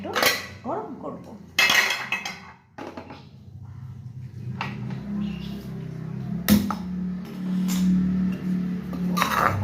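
Leftover chicken biryani is handled in a wok for reheating. Metal pan and utensil clanks and scrapes come in sharp bursts, followed by a low continuous cooking hum.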